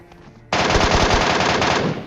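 Automatic gunfire in PUBG Mobile bursts in after a quiet moment as a loud, continuous rapid stream of shots lasting over a second and a half, close and dominant, with no talking.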